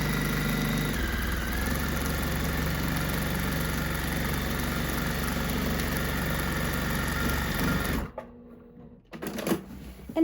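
A longarm quilting machine sews steadily with a close, even mechanical hum for about eight seconds, then stops abruptly, leaving a few faint handling sounds.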